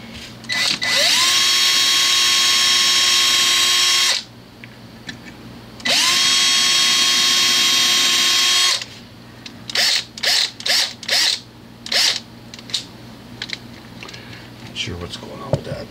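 A power drill spins up twice in long whining bursts, then a series of short trigger pulses follow, close and loud.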